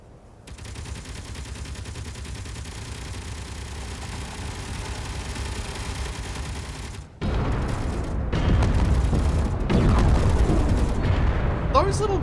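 Small missiles fired in a space-building video game, heard as a long steady mechanical roar, then a sudden cut to a denser stretch of rumbling blasts and crackling bursts, loud and close with no voices.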